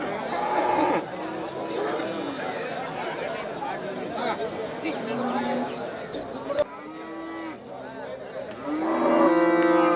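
Cattle moo repeatedly at the busy Pollachi cattle market, several long, low calls rising over constant crowd chatter and people talking nearby.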